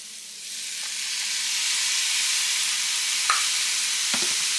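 Liquid aminos hit a hot pan of cole slaw mix, setting off a loud, steady sizzle that rises and holds, with a couple of faint clicks of utensils near the end.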